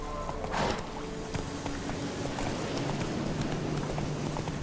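Hoofbeats of the horse Roach in The Witcher 3, a steady clip-clop of trotting hooves near and clear over faint game ambience, with no talk.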